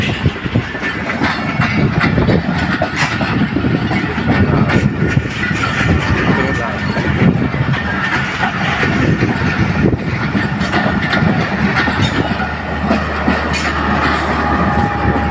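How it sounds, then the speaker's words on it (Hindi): The Hazara Express passenger train rolls and picks up speed on the rails, loud and close, with a continuous rumble, rhythmic clickety-clack of wheels over joints, and occasional wheel squeal throughout. "और हज़ारा एक्सप्रेस अब स्पीड पकड़ दी जा रही है।"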